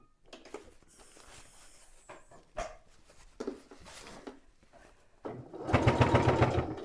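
A sewing machine top stitches a fabric cosmetic bag in short bursts at first, then runs in one steady, louder whirring stretch at the end, with faint handling noises between.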